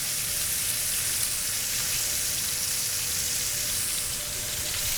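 A New York strip steak sears in a hot pan, its fat edge standing up to crisp, giving a continuous, loud, even sizzle and spatter with no talking.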